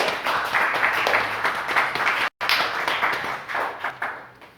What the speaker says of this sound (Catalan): demano un aplaudiment per la nostra il·lustradora.